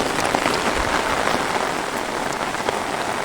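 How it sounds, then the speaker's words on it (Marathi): Heavy rain in Nashik pours down as a dense, loud, continuous hiss of drops pattering on surfaces, steady throughout with no voices. "खूप मोठ्या प्रमाणात पाऊस चालू आहे मित्रांनो नाशिकमध्ये"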